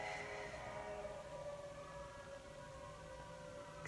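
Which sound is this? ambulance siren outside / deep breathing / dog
ambulance siren outside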